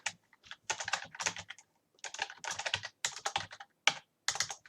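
Close, loud typing on a computer keyboard while entering programming code, in rapid clattering bursts separated by short pauses.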